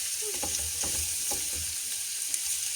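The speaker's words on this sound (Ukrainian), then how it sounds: "поки смажиться наша цибулька з морковкою" Onion and carrot sizzle and crackle in a hot pan, a close, steady frying hiss with occasional stirring scrapes.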